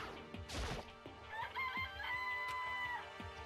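A chicken in the video game Shooty Bang Bang High School crows in a drawn-out call, with a thump and scattered clucks and clatter around it, fairly close and moderately loud.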